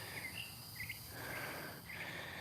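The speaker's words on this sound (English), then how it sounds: "Hear the crickets and the birds out here?" Outdoor night ambience with a steady high chorus of crickets and a few faint bird chirps in short bursts, quiet and distant, with no voices.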